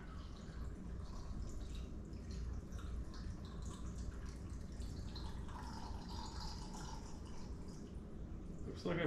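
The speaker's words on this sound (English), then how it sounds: "Let's go ahead and put the brine in." Brine pours into a jar packed with purple pickled eggs as a steady, soft liquid rush with faint dripping and splashing, close and quiet.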